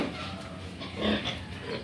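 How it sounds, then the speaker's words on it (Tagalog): A boar on a provincial piggery farm grunts and snorts at close range in a steady run of low, rough oinks. "Hi, baboy. This is the boar."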